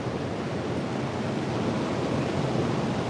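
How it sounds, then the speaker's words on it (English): A rough sea breaks on a beach in Panama City after a storm. It makes a dense, steady roar of surf mixed with wind buffeting the microphone, with no voices. "the sea is very, very rough today"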